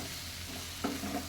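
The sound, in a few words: stirring ladyfinger (okra) curry in a pan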